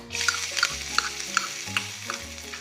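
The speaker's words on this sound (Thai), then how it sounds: "ผัดกระเทียมให้หอมเลยนะคะ" Chopped garlic stir-frying in a tablespoon of oil for bean sprouts with sausage, a lively close sizzle with rapid, rhythmic scrapes of a spatula against the pan.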